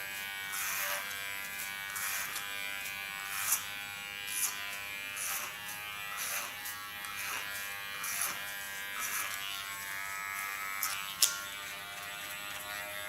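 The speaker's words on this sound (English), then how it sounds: "Hold my clipper in the sharpest position." An electric hair clipper buzzes steadily and close while cutting hair, its drone pulsing slightly as it moves through the hair, with a few brief clicks and no talking.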